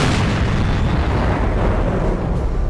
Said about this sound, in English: I'm going to take a pot shot of this tank over here.